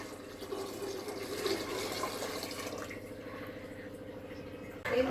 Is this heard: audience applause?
no